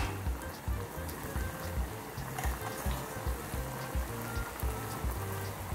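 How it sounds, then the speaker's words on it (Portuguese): Coalho cheese pieces without oregano, unbreaded, frying in hot oil, giving a steady, dense sizzle with crackling pops that runs close and constant throughout, with no talk. "Enquanto tá fritando os sem orégano, vou deixar dourar."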